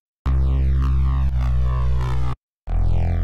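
Evil neuro FM reese bass synth with automated modulation, a loud, thick, growling tone that sweeps and shifts as it sustains for about two seconds, cuts to silence, then returns briefly.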